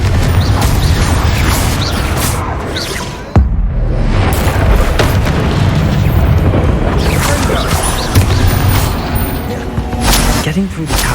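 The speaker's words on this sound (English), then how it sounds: "Confringo." A Confringo spell in Hogwarts Legacy lands with one sharp, loud boom partway through, set among dense game action, ambience and music.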